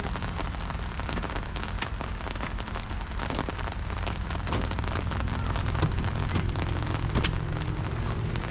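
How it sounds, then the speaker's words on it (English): Continuous rain drums steadily on a nearby surface, a dense hiss of drops with no voices, holding an even loudness throughout. "so it is raining right now."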